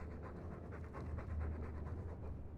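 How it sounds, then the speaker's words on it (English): A dog panting in a video game, with quick breathy huffs repeating steadily and close up, fairly loud and continuous with no talk over it. "All that noisy dog breath,"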